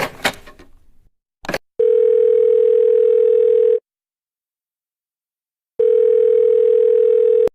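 A telephone handset gives a steady, loud, continuous dial tone in two long stretches separated by silence, after a short burst of rustling handling noise at the start.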